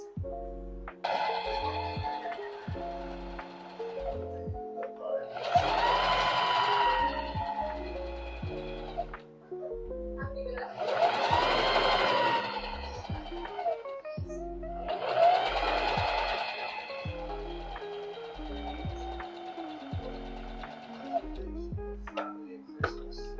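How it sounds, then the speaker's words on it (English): A home sewing machine stitches down boning channels on a corset, its motor whirring in three or four long bursts that rise and fall in speed, separated by short pauses, close and clear. "So I'm going to sew down each of these channels."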